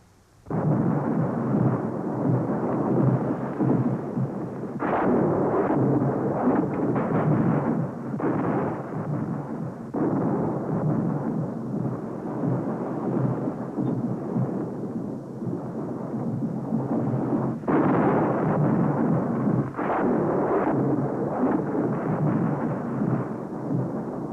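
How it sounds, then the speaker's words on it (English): Heavy thunder rolls on and on through a stormy night, loud, deep rumbling with several sharper cracks breaking through, continuous for over twenty seconds with no voices. "you mustn't be afraid of a little bit of thunder"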